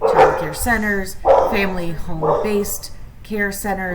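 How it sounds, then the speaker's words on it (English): Several dogs bark and yip loudly in repeated bursts behind a woman lecturing on early childhood care, the barks nearly continuous through her talk. "I do apologize about the dogs."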